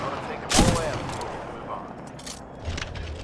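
A single sharp burst of gunfire from a gun in Titanfall 2 cracks up close, then a few fainter clicks and a softer thump follow. Quiet talk sits underneath.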